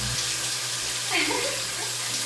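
Shower water runs steadily while a hair mask is rinsed out, a continuous close hiss with a brief shift in the splash partway through and no talking.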